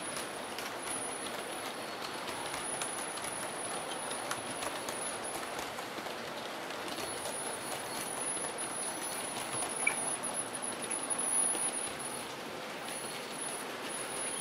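A small Hornby DCC model train clatters steadily along its track, a continuous light rattling with rhythmic wheel clicks and a faint high whine.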